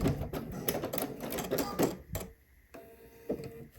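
A few short bursts of sewing-machine stitching lock a seam on a swimsuit, the needle clattering in quick stops and starts, then falling quiet before one brief final jab.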